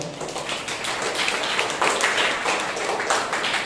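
A church congregation at a Sunday morning service claps loudly and steadily for a member's birthday, a dense wash of many hands that holds for several seconds without a break.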